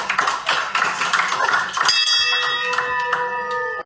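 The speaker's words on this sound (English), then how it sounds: "Esther, go ahead and ring the bell." Clattering and chatter in an office give way to a bright victory bell ringing with a sustained metallic tone that rings out before cutting off.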